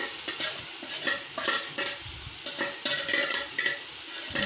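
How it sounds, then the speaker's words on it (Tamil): Chunks of smashed, roasted chicken being stirred and mixed in a frying pan while making chicken parotta, with steady sizzling and repeated scraping strokes of a spatula, close and fairly loud, no talking. "சிக்கன் ஆட் பண்ணிட்டு இதை மிக்ஸ் பண்ணிக்கோங்க."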